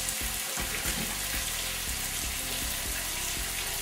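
Fish nuggets sizzle and crackle in hot oil in a pan, a dense continuous frying hiss with scattered pops and spits, fairly close and alone without talk.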